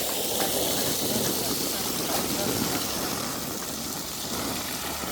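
Steady rushing water flows continuously toward a farm field, a dense broadband hiss with no breaks, close and fairly loud.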